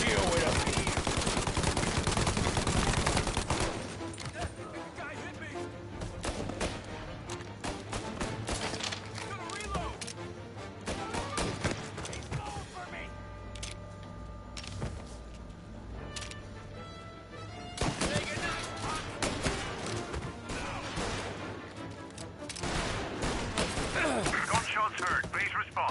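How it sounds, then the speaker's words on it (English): Gunfire in the 1930s-set video game Mafia Definitive Edition, with bursts of shots and thuds, loudest at the start and again near the end, mixed with game sound and music throughout. "Gunshots heard."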